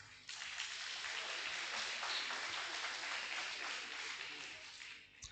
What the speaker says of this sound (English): give her the round of applause